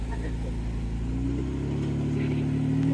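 Jeep engine running steadily while driving a rough off-road trail, a continuous mid-pitched drone that builds slightly in revs, close and fairly loud with no talk over it.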